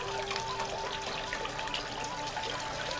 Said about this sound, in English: A little nook that has a water feature.